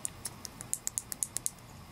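A small clicky push-button switch for a home-made CNC Z-axis touch plate is pressed about a dozen times in quick succession, each click sharp, close and crisp in an otherwise quiet room.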